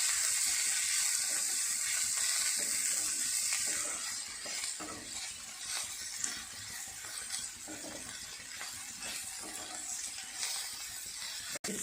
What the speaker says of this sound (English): I will fry for another 2 to 3 minutes